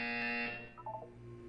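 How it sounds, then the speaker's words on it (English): A buzzer in the Portal 2 video game: a loud electronic tonal buzz lasting about half a second, followed by a shorter fainter chime-like tone, with no speech. "You will hear a buzzer. When you hear the buzzer, look up at the ceiling."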